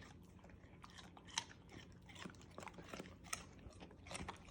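A dog crunches a raw carrot, giving a series of quiet, irregular crisp bites and chewing crackles at close range.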